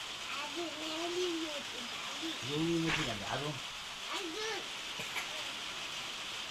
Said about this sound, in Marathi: सकाळपासूनच पाऊस चालू झाला आहे